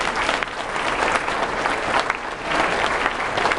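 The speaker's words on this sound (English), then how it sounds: "So a big round of applause for our custodial staff." An audience in a school cafeteria applauds the custodial staff at a first grade play, a steady, dense wash of clapping from many hands that swells and holds throughout without pause.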